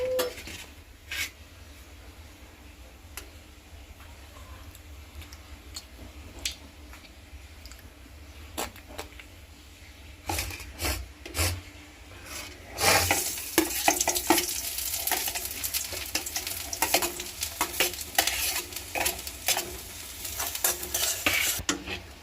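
Boal fish cooks with beans and potatoes in a pan, a utensil repeatedly stirring and scraping against the metal; the sizzle swells louder and busier partway through as the stirring grows more vigorous.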